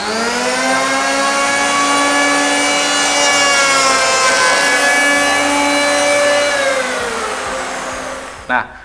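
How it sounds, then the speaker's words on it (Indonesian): A wood planer machine shapes a window frame, its steady high whine cutting continuously and loud up close for about eight seconds before winding down with a brief clunk at the end. "ini kan prosesnya bertahap nih menggunakan mesin serut ini"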